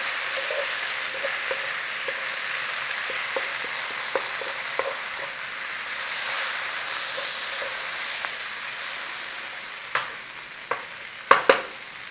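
Garlic fries in oil and butter in a pan while being stirred, producing a loud, continuous close sizzle with occasional utensil clicks and scrapes, louder near the end, and no talking.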